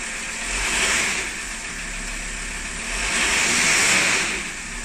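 Audi A6 C4 2.5 TDI diesel engine running steadily at idle after an oil change, with two gentle swells of revving rising and settling back, heard close and alone.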